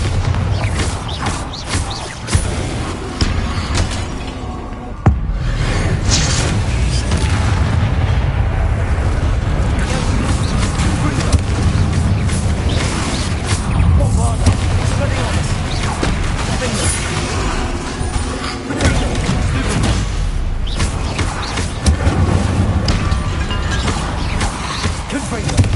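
A Bombarda explosion spell in Hogwarts Legacy sets off a long, loud, continuous roar of rumbling blasts and crashing debris, with sharp jolts standing out at moments throughout.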